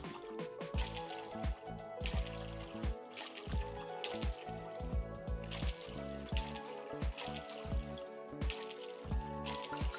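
Plants are watered in the farming video game Coral Island, with soft repeated dripping and splashing effects over a steady backdrop of cheerful game music, the watering sounds recurring every second or so.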